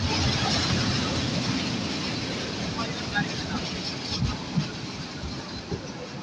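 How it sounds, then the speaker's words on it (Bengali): The Jamuna Express from Tarakandi is running late as it pulls into Joydebpur station. A steady, loud rumble and rattle of the rail cars fill the clip, with a few sharper clanks near the end and no clear talk. "তারাকান্দি থেকে ছেড়ে আসা যমুনা এক্সপ্রেস ট্রেনটি বেশ কিছুটা বিলম্ব নিয়ে জয়দেবপুর স্টেশনে প্রবেশ করছে এইমাত্র।"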